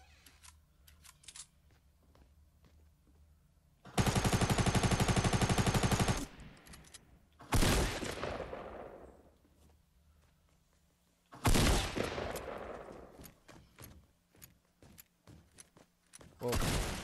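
SMG fire in the video game Fortnite crackles in rapid bursts: one long sustained burst, then two shorter sprays with fading tails, over a low background of game ambience and footsteps.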